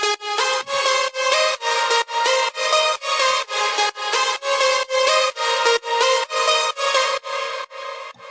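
A progressive house lead synth plays a catchy melody in bright, buzzy, evenly pulsing chords that repeat in a steady rhythmic pattern, loud and up front with no voices.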